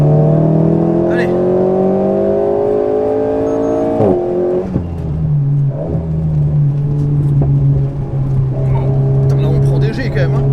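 An Alpine A110 on track accelerating hard, the engine note climbing steadily in pitch, breaking with a gear change, then pulling again loud and close from inside the cabin while occupants talk over it.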